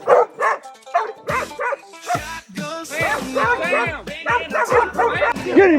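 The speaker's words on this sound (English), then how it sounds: "Dogs barking loud" Hunting dogs on a hog trail bark and yip loudly in rapid, overlapping bursts, several animals close by with occasional whimpers, and voices mixed in among the barking.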